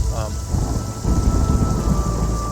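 Heavy rain pouring steadily as ambience for a tabletop role-playing game session, with rumbling thunder underneath; a dense, continuous wash of rainfall plays loud and close, with no voices over it.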